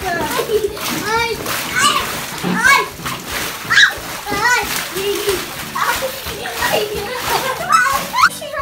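Water splashes and sloshes repeatedly in a small home pool filled for play with balls and toy animals, close and fairly loud, while someone talks excitedly throughout.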